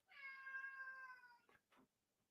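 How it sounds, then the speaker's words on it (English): A house cat gives one drawn-out, fairly loud meow up close, followed by two short soft sounds, in an otherwise quiet indoor room. "What do you want, cat?"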